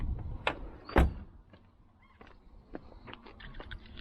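A Rover 214Si car door with freshly greased hinges is worked back and forth, with a couple of sharp clunks and latch clicks followed by softer creaks and taps, close by.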